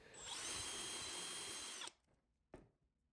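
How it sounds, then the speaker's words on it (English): A power drill with a stepped bit bores a half-inch hole, a loud steady high whine lasting nearly two seconds that cuts off abruptly, followed by a brief sharp click. "Here I'm drilling half inch, so I'm stepping that drill bit down to the half inch mark."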